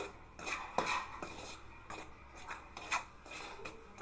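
Flour dough for kozhukattai being fried and stirred over low heat in a pan, giving quiet rhythmic scraping and rubbing strokes of a spoon against the metal, close by and with no voices.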